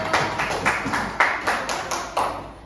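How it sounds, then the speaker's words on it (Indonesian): Short burst of applause from a classroom audience, a few people clapping in uneven, scattered claps for under three seconds, fairly close with no talking over it. "Kasih aplaus."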